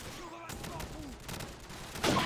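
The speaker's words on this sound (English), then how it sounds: "So, keep the miniguns spooled up." Call of Duty 4 minigun fire rattles in continuous bursts throughout, steady and loud, building to a harsher blast at the end, with voices and game sounds mixed in.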